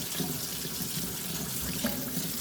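Tap water runs steadily into a sink while fresh seeds are rinsed, a close, continuous hiss and splash with a few small clinks, no voices.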